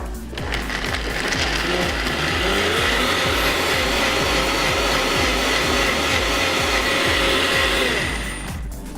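A countertop blender runs steadily on a coconut milk breakfast smoothie, a loud continuous whirring motor with churning liquid that holds for about eight seconds before winding down.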